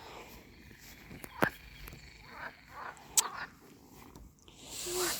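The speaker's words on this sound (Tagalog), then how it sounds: "Ang daming palaka." Many frogs croak in a backyard, a dense low chorus with a few sharper, louder calls standing out, heard at moderate distance.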